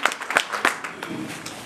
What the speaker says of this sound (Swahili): Mabuke 1000 makofi